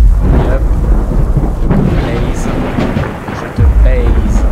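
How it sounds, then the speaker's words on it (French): Thunderstorm inside the horror video game Slenderman's Shadow, with heavy, continuous rain and deep rolling thunder that stays loud and close throughout, a brief lull near the end before it swells again; faint voice underneath. "Si ça pouvait se calmer un peu l'orage, ce serait cool."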